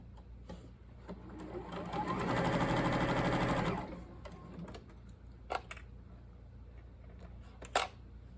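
A sewing machine runs in one burst of about two seconds, stitching a star seam on a quilt, followed by a few faint clicks and taps in a quiet room.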